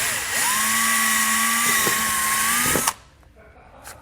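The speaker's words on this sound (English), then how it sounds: "these 2 fasteners are going to be plastic rivets. So we need to drill the center of them out." Power drill whining steadily for about three seconds as it bores out the centers of plastic rivets on a 2020 Jeep's wheel well trim, loud and close, then cutting off into quiet shop ambience.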